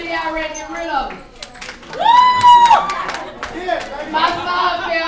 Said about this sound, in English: By round of applause, how many of y'all ready to get rid of them?